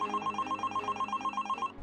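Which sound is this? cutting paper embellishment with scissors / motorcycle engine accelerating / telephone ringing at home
telephone ringing at home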